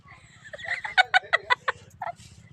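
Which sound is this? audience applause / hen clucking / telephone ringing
hen clucking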